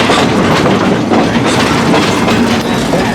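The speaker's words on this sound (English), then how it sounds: "We're on a railroad" A train runs along a railroad in Arizona, heard from on board as a loud, constant rumble with rhythmic clickety-clack of wheels over the rails.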